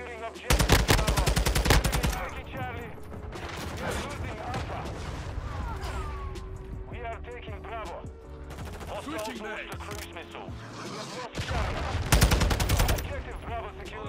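Rapid gunfire in the Modern Warfare 2 beta, with loud automatic bursts at the start and again near the end and scattered shots between, while a player talks throughout.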